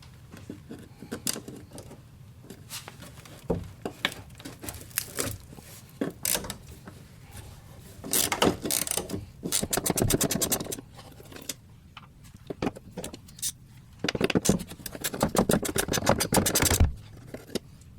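Bolts being worked loose with a hand tool on a bracket of a Jeep Cherokee XJ, giving bursts of scratchy metal scraping and ratcheting, clustered in busy runs near the end, close and alone.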